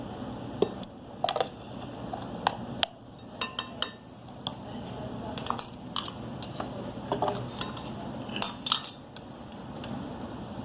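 A spoon clinks and scrapes around a bowl as chicken marinade is stirred with soy sauce and baking powder, scattered metallic taps and knocks over a soft background hum, nearby and unhurried.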